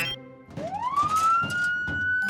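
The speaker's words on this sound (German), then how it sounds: "Vielleicht funktioniert das auch mit der Sirene." A cartoon police siren winds up with a rising whoop, then holds a loud steady tone, near and bright over soft background clatter.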